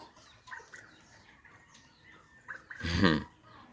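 Broody chickens sitting on turkey eggs on a ranch give soft scattered clucks, then one loud, harsh squawk with a rustle near the end, close by.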